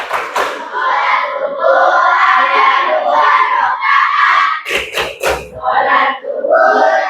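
A class of schoolchildren performs the tepuk sholat clapping chant, loud voices chanting together with rhythmic claps and a burst of sharp, rapid hand claps partway through.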